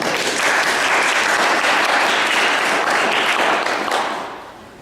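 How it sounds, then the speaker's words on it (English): An audience at a youth demonstration of tai chi and yoga poses applauds with steady, dense clapping for about four seconds before it fades out near the end. "let's give a round of applause"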